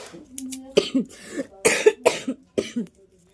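A person coughs repeatedly at close range, several sharp bursts in uneven clusters with short pauses between them.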